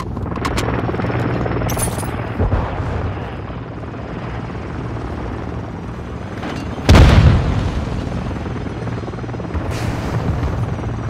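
Bomb drone explosions in a video game: a continuous rotor-like drone hum and rumble run throughout, with one heavy explosive boom near the middle and several sharper bursts.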